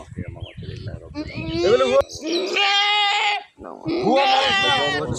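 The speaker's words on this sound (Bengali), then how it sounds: "এখন একটা আকিতের ছাগল" A goat bleats several times in long, loud, wavering calls close by, with people talking around it on a farm.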